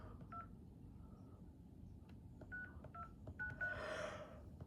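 Touch-tone beeps from a phone dialing a number: short clipped tones in quick uneven bursts, then a longer hissing swell near the end, heard alone over a low background rumble.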